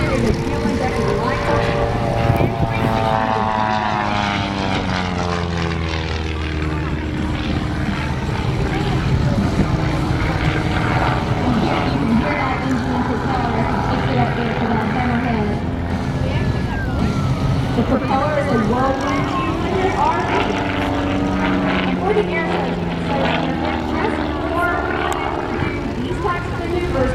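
A propeller aerobatic plane built in 2006, with a fuel-injected engine and smoke oil system, flies at an air show. The loud droning engine sweeps and shifts pitch continuously, with an announcer talking over it.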